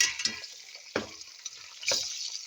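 Potato slices sizzling in a frying pan while cooking Filipino chicken asado Ilokano, with a steady bright hiss and a few sharp stirring scrapes and clatters standing out above it.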